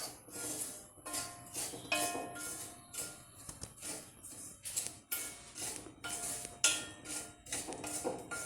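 Avalose mixture being stirred and roasted in a pan for avalose unda, a steady run of scraping and clinking strokes from a spoon against metal, close and fairly loud, with no talking.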